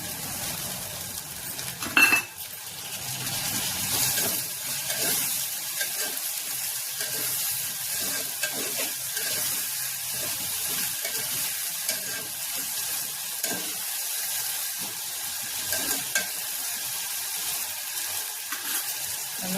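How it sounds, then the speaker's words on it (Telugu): Tomatoes frying with softened eggplant in a pan for an Andhra-style dried fish curry give a soft, steady sizzle with scattered stirring scrapes and one sharp clatter early on, moderately close and without speech. "దీంట్లోనే మనం టమాటా వేసుకుందాం."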